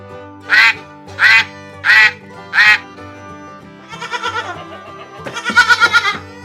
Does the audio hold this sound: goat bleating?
yes